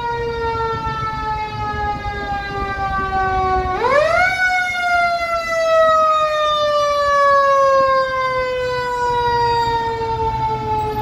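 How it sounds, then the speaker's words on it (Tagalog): A loud fire engine siren wailing in Contra Costa County, California, its pitch sweeping sharply upward partway through and then slowly sliding down, close and sustained. "Ayun, daming nagdaratingan ng mga bumbero."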